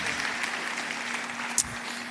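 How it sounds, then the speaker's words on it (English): Audience applause at a business school lecture, a steady even patter of many hands from a seated crowd, moderately loud, with one brief sharper knock near the end. "Please, another round of applause for her."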